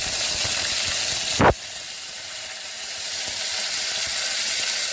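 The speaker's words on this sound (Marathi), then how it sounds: "मोहरी घातली मोहरी तडतडली हा कढीपत्ता घातला" Mustard seeds and curry leaves splutter in hot oil for a sprouted moong dal tempering: a loud, dense crackling hiss that ends in a sharp burst, then settles into a quieter, steady sizzle.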